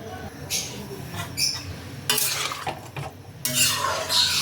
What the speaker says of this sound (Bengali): সব কিছুকে আবারও একবার ভালো করে মিশিয়ে নিই